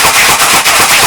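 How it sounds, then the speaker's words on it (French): A Mad Mega Barrel toy blaster fires and is racked to re-cock in a quick, loud, close burst of harsh mechanical clatter with no voices. "le tir en lui-même, le bruit ça va, mais le réarmement, je vais finir sourd."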